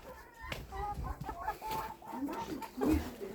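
Chickens cluck and murmur nearby in a steady, uneven stream, with a louder squawk near the end and a low background rumble.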